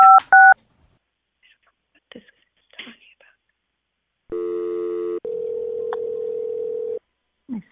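Telephone keypad dialing tones from an office phone system: a short pair of beeps, then after quiet a steady dual-tone dialing burst followed by a longer continuous tone, clear and close, with faint whispery sounds between.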